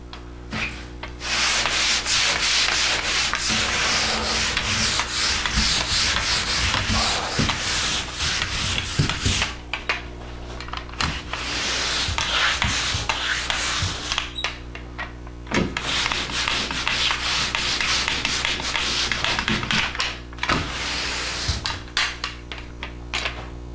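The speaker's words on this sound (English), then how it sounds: "We'll be sanding this coat with 100 grit sandpaper." An all-purpose drywall mud coat on an arch is sanded by hand with 100-grit sandpaper, making close, continuous, rhythmic scratchy strokes that pause briefly between passes, with no talking.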